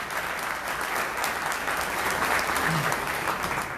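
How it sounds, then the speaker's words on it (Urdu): Applause from an audience at a university debate hall, a dense steady clapping that holds at full strength for a few seconds with no break. "آپ کو should give a round of applause تمام منتظمین کے لیے"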